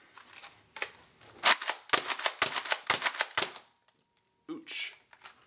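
A Nerf Rough Cut blaster fires darts at taped paper in a quick burst of snappy pops and thuds, followed by a pause and then a single further impact.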